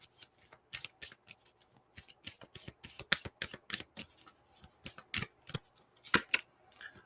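Oracle-style empowerment cards being shuffled by hand, a rapid run of crisp papery riffles and snaps that come in uneven bursts, close and fairly soft, with no talking.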